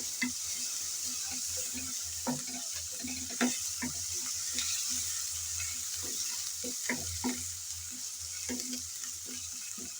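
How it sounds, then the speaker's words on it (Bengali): Ginger and garlic paste frying with onion in a pan for a pangas fish curry, giving a steady close sizzle throughout and a series of scraping stirs and light clinks of the spatula. "আদা রসুন এখন একসাথে পেঁয়াজের সাথে ভেজে নিতে হবে, যাতে আদা রসুনের কাঁচা গন্ধটা চলে যায়।"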